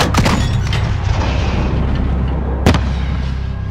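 A heavy boom from a thrown grenade detonating in Call of Duty: Modern Warfare, a loud deep blast early on followed by rumbling battlefield noise and a second sharp impact near the end.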